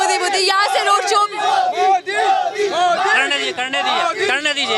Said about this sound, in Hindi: गाने लग रहे हैं मोदी मोदी